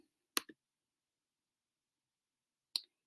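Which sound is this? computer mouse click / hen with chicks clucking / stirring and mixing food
computer mouse click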